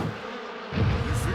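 A short insect buzz hums low and steady, growing louder and closer after a moment, like bees droning nearby.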